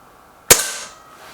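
A single sharp crack from a Gamo Whisper Sting or SMK XS36 air rifle being fired, close and loud, followed by a short fading ring after quiet.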